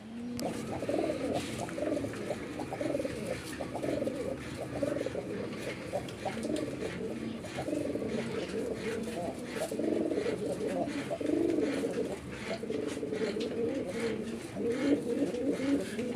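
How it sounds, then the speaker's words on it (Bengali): Local deshi domestic pigeons coo repeatedly up close, soft low rolling calls in a steady rhythm, with faint talk in the background. "দেশি কবুতরের যে ডাকই অন্য অন্য কবুতর থেকে একটু ভিন্ন"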